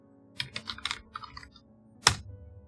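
Quick bursts of keystrokes on a computer keyboard typing a cd command, a rapid run of clicks followed by one louder, sharper key press like Enter, close and alone with no talking.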